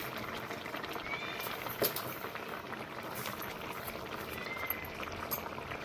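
Buffalo milk boiling in a pot for halwa, a soft continuous bubbling and gurgling close by, faint overall with a couple of brief knocks.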